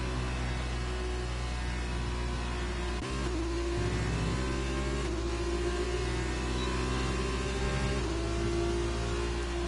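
An F2 race car in a racing video game at Bahrain spins out, its engine droning steadily and then wavering in pitch as it revs and slides, loud and close throughout.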